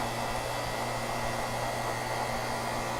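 Beater motor of a Taylor soft-serve machine running, a steady close electric hum and whir with a constant buzzy drone, unchanging for the whole stretch, with no voices.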